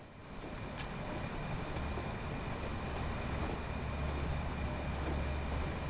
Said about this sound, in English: don't forget the bus has to stop for the fantastic train to go whizzing